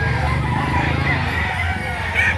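Roosters and other chickens at a Saturday poultry market in Lipa City, Batangas, with fowl calls and a crow rising over a steady, busy crowd murmur and background chatter.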